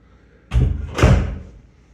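A closet door in a house swings open and then shuts, giving two solid thuds about half a second apart, close by and fairly loud, with no talking.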